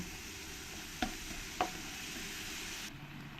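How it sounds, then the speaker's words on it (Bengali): Ground cumin, coriander and chili powder stir-fried in a pan for a Bengali egg and jackfruit curry. A continuous close sizzle is broken by two sharp spatula scrapes or knocks against the pan, with no voices. "মশলাটা ভালো করে কষিয়ে নিতে হবে"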